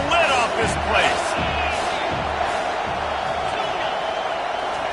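A stadium crowd roars steadily through a football game's third-down play, a dense wall of cheering and whooping that stays loud throughout, with a voice talking over it.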